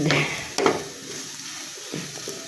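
Octopus sautéed in a pan, a few sharp clanks and scrapes of a utensil stirring against the metal over a soft background sizzle, close and brief.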